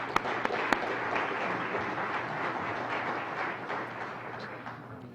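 An audience at a community forum applauds a panel, a steady even patter of clapping from a modest crowd, moderately faint and unbroken by talk.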